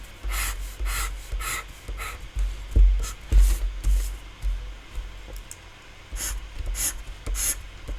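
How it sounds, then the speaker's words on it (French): A white pencil scratching over the parts of a handbag box to be cut, close rhythmic strokes in repeated bursts with faint rustling between. "Avec mon crayon blanc, je vais vous montrer les parties que nous allons devoir découper"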